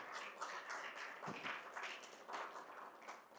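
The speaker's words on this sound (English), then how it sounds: "let's give a round of applause to our state chairman, Josiah Baker, and the rest of the executive board" Audience at a Libertarian Party of Tennessee event applauding its state chairman and executive board, a faint, distant, sustained patter of clapping across the hall, continuous for a few seconds.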